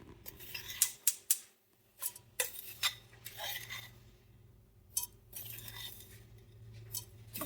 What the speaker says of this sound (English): So this is a spice grinder and I'm going to scoop it into it.